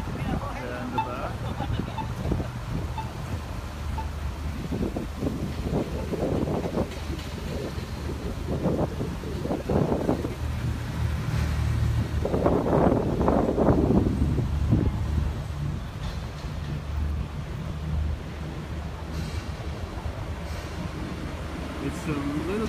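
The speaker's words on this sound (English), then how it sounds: "It's a little bit more windy than yesterday" Gusty wind in Miami Beach during Hurricane Irma, buffeting the microphone in rumbling surges that rise and fall, with someone talking intermittently over it.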